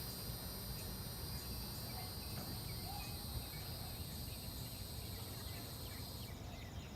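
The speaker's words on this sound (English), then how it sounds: "you can tell how many cicadas you have in the area just if the song kicks in" A steady, buzzing chorus of cicadas in Georgia fills the air with an unbroken high drone, loud and continuous throughout with no voices.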